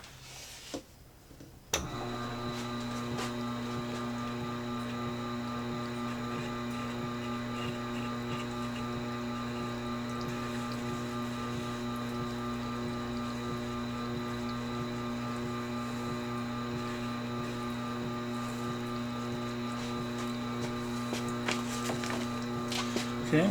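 Tormek sharpener honing wheel turning steadily against a Dewalt glue removal chisel, a constant mechanical hum with faint ticking, preceded by a short quiet moment and a sharp knock as it starts up.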